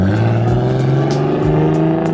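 A car engine revs loudly and steadily, its deep growl rising and dipping through two brief throttle blips, close by with no talk.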